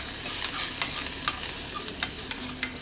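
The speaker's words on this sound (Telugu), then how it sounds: "బాగా దోరగా వేయించుకుని" Mustard seeds, cumin, dried red chillies and curry leaves fry in hot oil in a pan for a tempering, a soft steady sizzle with scattered light pops and crackles close by, no voices.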